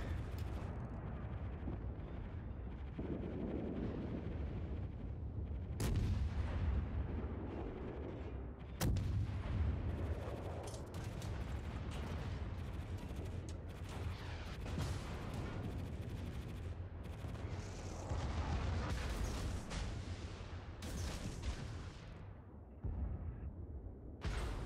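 Heavy naval gunfire booming in a World of Warships battle, dense layered cannon blasts and shell impacts with sharp loud bursts at intervals over a constant rumbling battle din.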